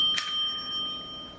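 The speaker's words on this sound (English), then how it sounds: "And that day I found this bag, and it had this bell in it" A vintage push-type bell, used as a dinner bell, is struck once with a bright metallic ding that rings on with a clear, slowly fading tone, close and alone.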